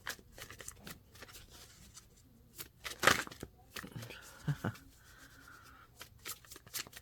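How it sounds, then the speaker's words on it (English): A deck of tarot cards shuffled by hand in quick, soft riffling bursts and slaps, close and quiet, with a voice murmuring faintly. "Shuffle. Damn it. I don't want to shuffle today."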